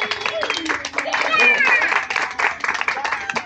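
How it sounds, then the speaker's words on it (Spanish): Applause at a community celebration in Villa de los Caballeros honoring a woman on her day, clapping and crowd noise fairly loud and steady, with a voice and music-like tones mixed in. "¡Fuerte el aplauso!"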